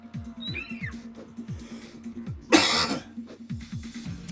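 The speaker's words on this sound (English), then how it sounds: "Apparently we're not over coughing for today yet." A single loud, harsh cough bursts out partway through, close and sudden, over quiet game sounds with a repeating low rhythmic pulse and faint chirpy effects from Shadowrun Returns.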